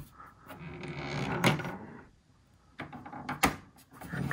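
A plastic lamp cover is fitted onto a Panasonic PT-AE8000 projector, with soft handling rustles and scrapes followed by a couple of sharp, close clicks as it seats into place.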